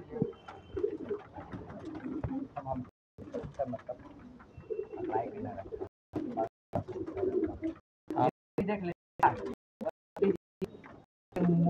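Pigeons cooing at close range, soft throaty coos repeating in bursts with short gaps between phrases, several birds overlapping, with faint background noise.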